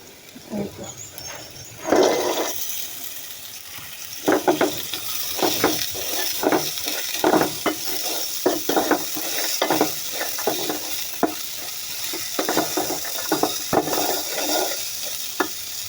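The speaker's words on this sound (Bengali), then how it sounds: "আমি ফ্রাই প্যানে অল্প তেলে পেঁয়াজু ভাজবো।" Oil sizzles steadily in a frying pan as onion fritters fry in a little oil, with scattered crackles and stirring clatters, a close, busy frying sound with no talking.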